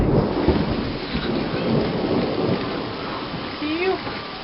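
Rain pours steadily outdoors during a neighborhood thunderstorm while thunder rumbles low and broad underneath, a dense wash of drops near the microphone with a voice briefly audible toward the end.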